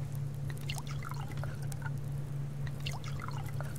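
Water trickles from a bottle onto plants in the survival game Subsistence, a soft, continuous pouring patter over a low steady hum.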